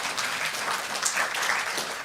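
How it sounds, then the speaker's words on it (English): A brief burst of conference audience applause, steady, even clapping from a seated crowd throughout. "Another round of applause."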